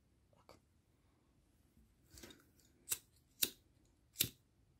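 Scissors snip through crochet lace, with a light first cut and a soft one later, then three crisp, close snips evenly spaced near the end over a quiet room.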